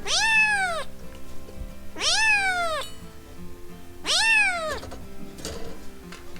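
A cat meows three times, loud and close, each call long and drawn out with a falling, plaintive tone, spaced a couple of seconds apart.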